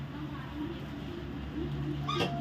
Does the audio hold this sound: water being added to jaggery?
no